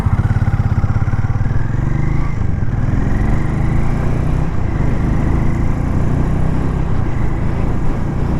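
A Harley-Davidson X440 cruiser-type engine runs loud and close, its low exhaust thrum rising in pitch as the motorcycle pulls away onto a highway, with no voices over it.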